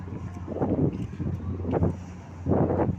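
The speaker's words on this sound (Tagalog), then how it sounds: "Ang sarap ng hangin." Wind gusts over a high waterfront bridge, blowing across the microphone in three strong rushes with a steady low rumble between them, loud and close.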